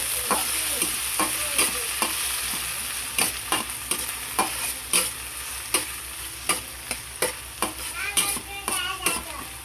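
Onions and tomatoes sauté together in a hot pan, a steady sizzle punctuated by frequent clacking stirs of a utensil against the pan, growing busier toward the end, close by with no talk.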